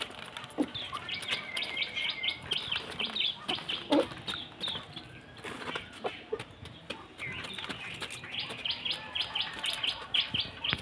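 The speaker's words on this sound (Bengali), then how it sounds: "তো এদিকে কিন্তু চালটাও দেখো খাচ্ছে মুরগিগুলো।" Hens pecking at scattered rice give soft, repeated clucks and high chirps, fairly quiet and close, with faint rustling underneath and no talk.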